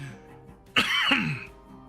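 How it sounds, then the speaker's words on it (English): A single harsh cough bursts out close by, a short throaty hack with a brief follow-up, against a quiet background. "And my coughing for some reason."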